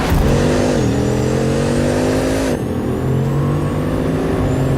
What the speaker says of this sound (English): every single other Bugatti that has a W16 sounds just like this